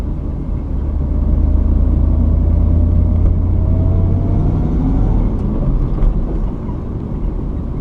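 A Ford Mustang GT V8 engine drones steadily from inside the car while driving, a low continuous rumble with a slight rise in pitch partway through.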